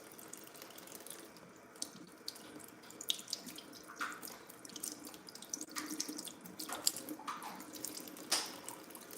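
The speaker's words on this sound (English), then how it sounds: "So washing the potatoes." Potatoes being washed under a running kitchen tap, a soft steady stream of water with intermittent splashes and drips as the potatoes are handled, fairly quiet and without talk.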